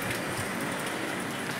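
Heavy rain pours steadily at the Shirdi temple grounds, a dense, even wash of drops hitting surfaces close by, with no voices.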